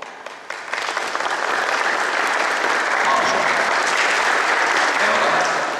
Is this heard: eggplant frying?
no